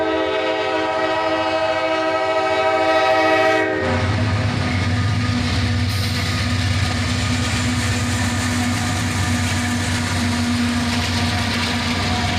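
A train led by a four-unit locomotive lash-up with a road slug passes on a gloomy day. A loud horn blast opens, then a steady heavy diesel rumble and rolling rail noise continue close by.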